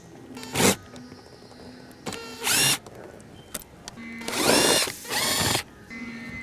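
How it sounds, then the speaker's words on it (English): Power drill or electric screwdriver backing out the four screws on the shifter housing of a 1990 Toyota 4Runner V6 3VZ 4WD, heard as several loud whirring bursts of varying length separated by short pauses, with no talking. "we're going to remove the 4 screws that hold the housing on."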